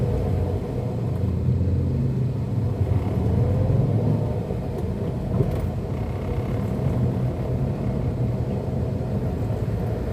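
Car traffic in heavy rain along Lacson, a constant loud low rumble of engines and road noise heard from inside a vehicle, without talk.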